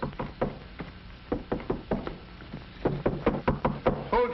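Knocking on a door, a series of sharp, fairly close raps in irregular clusters, some quick doubles and triples, with little else audible between them.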